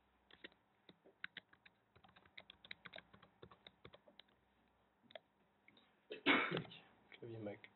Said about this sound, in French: Clavier Mac.